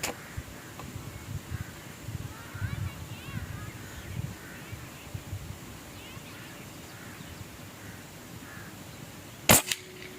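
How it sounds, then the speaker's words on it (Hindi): A single sharp, close crack from a PCP airgun M22 fired at a target sounds near the end, after a quiet stretch of outdoor ambience with faint birds and rustling. "एक शॉट और ले लेते हैं, 5 शरों का ग्रुप ले लेते हैं।"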